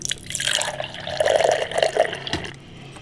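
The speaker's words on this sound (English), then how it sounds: "you're pouring until the beer is not beer anymore, it's clear water" Clear water running through beer tap lines during a manual line clean, a steady liquid pour with drips and splashing filling a vessel, close and moderately loud.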